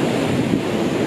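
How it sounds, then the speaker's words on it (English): Large ocean waves surging at Victoria Bay on South Africa's coast near George, a steady loud wash of surf with wind buffeting the microphone throughout. "It's like huge waves."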